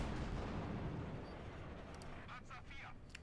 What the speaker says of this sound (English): Machine gun fire and main gun fire blasting.